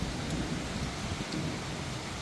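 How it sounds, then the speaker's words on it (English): Steady convective April rain pours down in Mapusa, Goa, a dense, even hiss of falling drops heard from an open window, constant throughout with no voices. "April rains, most welcome."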